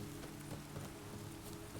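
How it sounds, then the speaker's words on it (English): Steady rainfall in The Witcher III video game, a soft continuous hiss of rain on surfaces with faint scattered drops, quiet and even throughout with no talking. "It's all cloudy and rainy"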